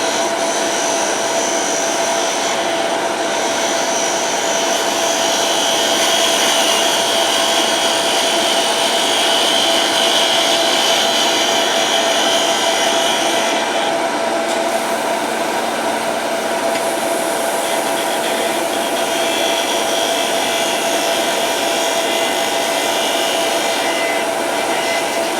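A wood lathe makes a smoothing cut on a spherical-bowl coffee scoop with an offset handle: a continuous loud hissing scrape of the tool on spinning wood with a steady tonal hum, uninterrupted for the whole span.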